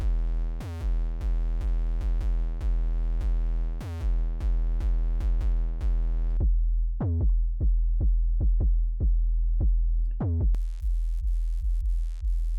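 Repeated pitched synth or bass notes driven through the FabFilter Saturn distortion plugin. The notes fall in a steady rhythm with buzzy, saturated harmonics, then a thinner, quieter run of notes follows, ending in a harsher, noisier burst.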